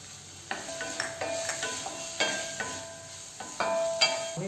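Paneer and spice paste sizzle in a hot pan while a spoon stirs and scrapes in repeated strokes, crackling frying noise steady beneath the clatter.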